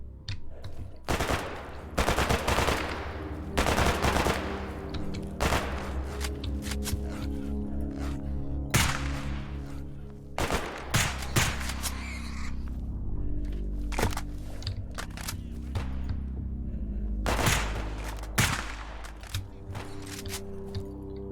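Gunfire in the video game ArmA, with single shots, rapid bursts and scattered distant reports cracking out repeatedly against a low rumble. The firing is loud and fairly close, with no talking over it.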